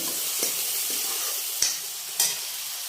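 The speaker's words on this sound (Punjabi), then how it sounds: "ਆਪਾਂ ਇਹਦੇ ਨਾਲ ਹੀ ਟਮਾਟਰ ਪਾ ਦੇਾਂਗੇ ਬਸ 5-5 ਜਾਂ 4 ਸੈਕਿੰਡ ਇਹਨਾਂ ਨੂੰ ਭੁੰਨਣ ਦੇ ਨਾਲ ਦੇ ਨਾਲ ਆਪਾਂ ਪਾਈ ਜਾਵਾਂਗੇ" Tomatoes sizzle steadily as they fry in a pan for a vegetable curry made with makoh greens, with a few sharp scrapes and clinks from stirring against the pan, close and alone.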